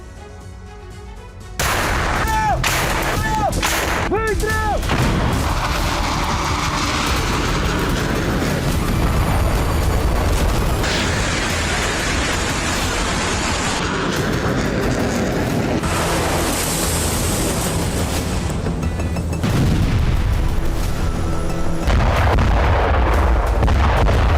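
Iskander missile strike explosions in Kharkiv: loud, continuous rumbling blasts and booms begin abruptly after a brief quiet and keep going without a break, with some sharper cracks layered on top.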